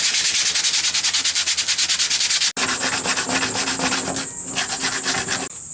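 Sandpaper rubbing back and forth along the broken nose edges of a surfboard, a steady loud rasping stroke rhythm that changes texture partway through, close up with no talking.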